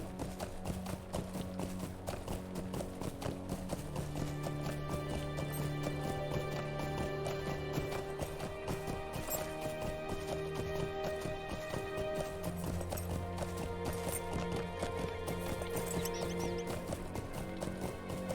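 A horse's hooves clip-clop at a steady trotting rhythm throughout a ride in the Lord of the Rings Online video game, over continuous orchestral game music.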